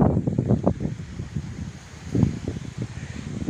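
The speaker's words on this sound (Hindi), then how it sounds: "नॉइस आ रहा होगा तो आप समझ सकते हैं कितना हवा चल रहा है।" Gusty wind roars and thumps against the microphone in a village as trees sway hard, loud, uneven rumbling pulses throughout.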